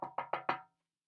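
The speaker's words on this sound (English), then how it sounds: "Then there was a knock on the door." Four quick knocks on a door, evenly spaced and close, a crisp rapping rhythm lasting under a second with no talking.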